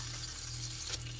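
Brioche French toast sizzles steadily in a frying pan, a close, continuous hiss with a low hum beneath and one brief clink near the end.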